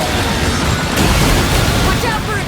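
Explosions in the video game Astral Chain, a dense burst of booming blasts and crackling debris that swells loud midway through the short stretch.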